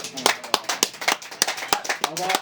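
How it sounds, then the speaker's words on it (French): A small group claps for a performer at a music-day event on a radio station, sharp uneven claps in a quick rhythm, close and fairly loud, with a voice speaking over them. "On va l'applaudir très fort."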